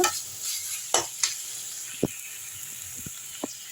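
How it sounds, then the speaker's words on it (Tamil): Turmeric powder being sautéed in a pan: a soft, steady sizzle punctuated by a few sharp scrapes and clinks of a spoon stirring against the metal, close and quiet. "மஞ்சள் தூள் போட்டு அதிலே வந்து நல்லா வதக்கிடலாம்"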